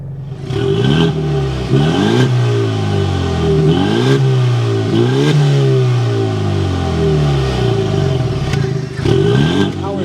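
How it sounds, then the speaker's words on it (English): A 2024 Ford Mustang EcoBoost fires up and its exhaust is revved repeatedly, loud rising and falling engine sweeps recurring every couple of seconds, close and dominant throughout. "start up this EcoBoost so you can hear that exhaust note."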